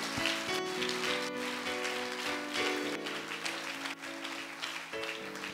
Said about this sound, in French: Acclame très fortement pour la gloire du Seigneur